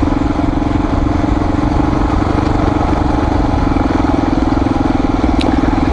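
A Honda XR400R motorcycle engine idles nearby with a steady, loud, even thrum and a constant low throb that holds unchanged throughout.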